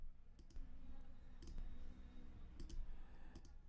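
Computer mouse clicks while working in Pro Tools: a few sharp, faint clicks spaced irregularly over a steady low hum of room noise, with no voices.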